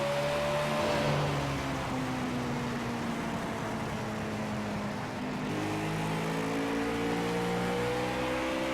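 Race car engines drone together on track during the Master Roof Cleaners 300, a steady layered roar with rising and falling pitches as cars run past at a distance, no talking.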